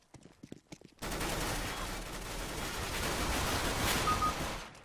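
Rapid gunfire in the shooter game CS:GO, a dense continuous burst of shots after a few faint taps, fairly quiet and without talk.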